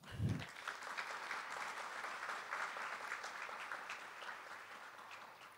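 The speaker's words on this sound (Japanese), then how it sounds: "ご登壇いただいた皆様に大きな拍手をお送りください" Audience applause closes a panel discussion at an SDGs symposium in Tokushima: a steady, dense wash of clapping from many hands that continues evenly at moderate volume for the whole stretch.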